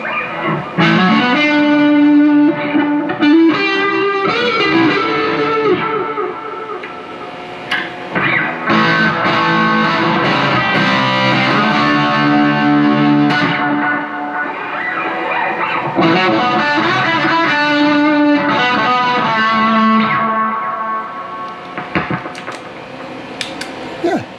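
An electric guitar through a Dookie Drive overdrive pedal plays chords and riffs with a gritty, distorted tone, loud and continuous with brief gaps between phrases.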